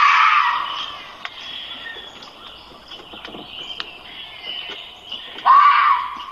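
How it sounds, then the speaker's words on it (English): A fox mating call played back from a phone speaker: harsh, high screaming cries that open loud, settle into a steadier wailing stretch, then flare up again near the end, heard alone with no talking. "want you to go look up Fox mating calls"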